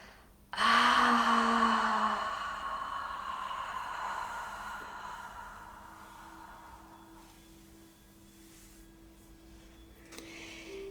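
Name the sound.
exhaling through the mouth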